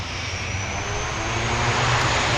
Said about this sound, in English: Here goes the ATR.